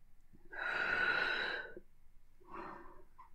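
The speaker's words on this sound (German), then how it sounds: "Ich vergesse immer das Atmen." A deep, breathy inhale-exhale during a yoga exercise, one long broad rush of breath followed by a shorter, softer second breath, close and fairly quiet with no talking.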